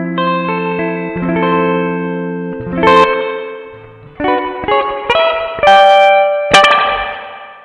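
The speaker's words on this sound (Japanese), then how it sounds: "スプリングはですね、スプリングリバーブをイメージしたシミュレートした音になります。" Electric guitar chords and single notes through a Strymon BlueSky pedal's spring setting, drenched in bright, splashy spring reverb, with twangy boings and drips trailing after sharp picked attacks.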